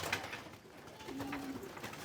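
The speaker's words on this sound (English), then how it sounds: "He's actually a beautiful pigeon." A pigeon cooing nearby in warm weather, one soft low throaty coo in the middle of the moment, faint against light background noise.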